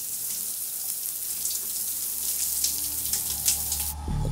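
Water running from a tap, a continuous bright splashing hiss that roughens with small surges before cutting off abruptly near the end, close and fairly loud with no talking.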